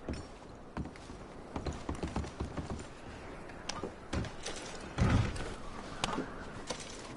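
Horse hooves clop in Red Dead Redemption 2, a run of uneven, fairly quiet knocks and thuds mixed with light mechanical clatter, with no talk over them.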